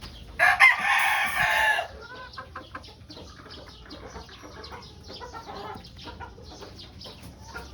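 A Pure White Kelso gamefowl rooster, peacomb type, crows once loudly and close for about a second and a half, followed by a low murmur of background farmyard noise.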